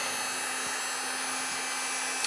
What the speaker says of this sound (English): I do hold it, you know, in a sort of tight little space to get the balance that I want with my drill and my hand.